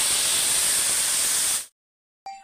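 Shrimp peel paste hits hot oil with a loud, steady sizzling hiss that lasts about a second and a half and then cuts off abruptly, followed after a short silence by a brief faint sound.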